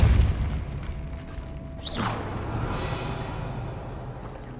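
A Depulso spell cast in the video game Hogwarts Legacy, a single sharp magical whoosh and burst near the middle, with a rising shimmer over low rumbling game ambience.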